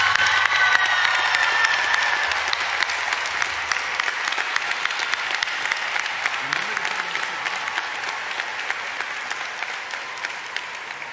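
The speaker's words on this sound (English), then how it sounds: "let's give them a round of applause" A large commencement crowd at UNC Chapel Hill applauds the rising School of Medicine graduates with sustained, even clapping and some crowd murmur, easing slightly over about eleven seconds.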